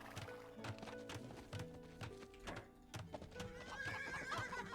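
Horses from the real-time strategy game Age of Empires 2 neigh and whinny over busy game sound effects, with clip-clop hoofbeats and clattering in the background, several calls in a steady loud mix without talk.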